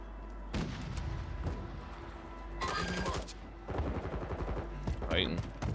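Gunfire in the Fortune's Keep video game: scattered rapid bursts and single shots crackling at moderate loudness, arriving in several separate clusters over a low background hum, without voices.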